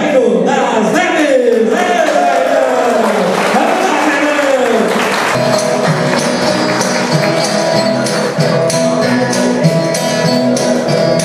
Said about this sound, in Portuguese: Aplausos para Jairo Nazeri.